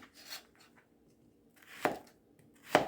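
A knife cutting zucchini into half-moons on a board, two crisp distinct chops near the end after a softer earlier cut, close and quiet with no talking.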